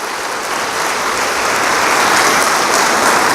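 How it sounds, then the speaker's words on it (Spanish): A church congregation claps loudly for Jesus Christ during a Spanish-language sermon, a dense, steady roar of applause that swells slightly and continues throughout without speech. "Dale un aplauso a Jesucristo"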